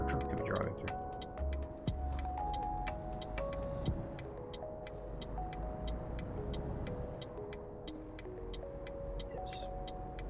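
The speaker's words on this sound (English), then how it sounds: "Not a good car park for a truck to be driving through." A truck's engine hums steadily while it drives through a car park in a truck-driving simulator game, with a rhythmic ticking indicator and a few light clicks over the motor.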